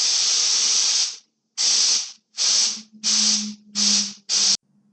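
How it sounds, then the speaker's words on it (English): Six sputtering bursts of hissing spray from a nearly empty aerosol can, the first long and the rest short and uneven with gaps between, close and fairly loud. "A good indicator of emptiness would be the sporadic spray sound like this."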